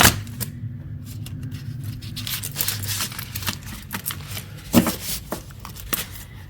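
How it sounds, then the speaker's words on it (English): A tarot card deck is shuffled by hand in a series of riffling, crisp card bursts with brief pauses. A low rumble, such as passing truck noise, sits faintly underneath. "I'm gonna give it a good shuffle, and then we'll get 3 cards from the middle."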